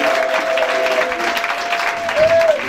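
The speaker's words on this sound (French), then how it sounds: "le prophète Joël Crasso. Shalom, qu'on acclame très fort" Applause from a crowd at a religious gathering welcoming a prophet on stage, a steady broadband clatter of clapping that keeps up for the whole stretch, with a sustained tone and some voices rising through it.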